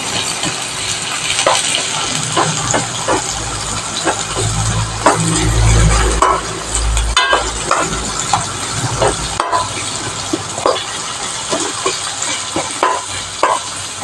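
Vegetables sautéing in a pan for a carrot curry with egg: a continuous close sizzle with frequent scraping stirs, a brief louder hiss of steam midway, no talking throughout.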